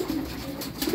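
Soft, low pigeon coos murmur close by in a short burst, with faint rustling around them, from young pigeons.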